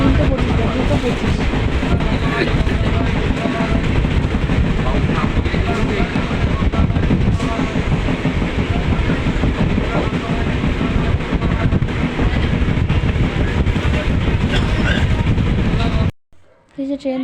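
The interior of a moving passenger train carries a loud, continuous rumble and clatter of wheels and carriage, with wind noise and background voices of other passengers, ending abruptly near the finish.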